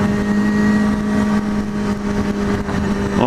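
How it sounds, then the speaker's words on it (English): A learner motorcycle engine running steadily nearby, with a constant mid-pitched drone and a brief rise in revs at the end, heard alone without talk. "For a learner bike, this bike sounds amazing"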